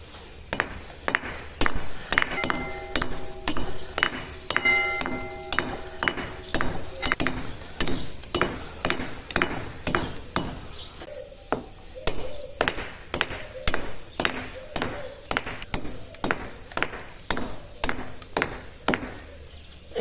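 A stonemason's pick dressing hard stone such as marble or granite, striking in a steady rapid rhythm of sharp, ringing close-up impacts, with no speech.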